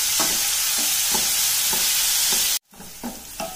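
Thinly sliced onions frying in a pan give a steady loud sizzle, with a spoon stirring in repeated scraping strokes; the sizzle drops out abruptly for a moment before resuming with more stirring.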